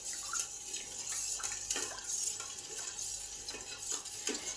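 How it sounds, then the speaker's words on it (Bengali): A spoon stirs panakam, a lemon-juice drink in water, in a vessel, making repeated soft clinks and watery swishes in an uneven rhythm, close and fairly quiet. "এবার সব কিছু আবার ভালো করে গুলে নেব।"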